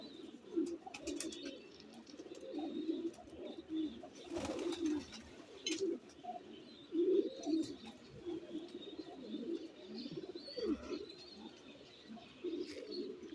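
Several Golden Kamgar pigeons coo softly and repeatedly close by, with low rolling calls overlapping, occasional chirps and a brief flutter of wings.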